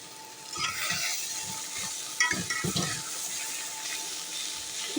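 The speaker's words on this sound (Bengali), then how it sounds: "সুন্দর করে ভাজি করে দিচ্ছি।" Leafy greens sizzle gently in a pan while being stirred, with soft scraping and clinking of a utensil, faint and steady, a few louder stirring knocks in the middle.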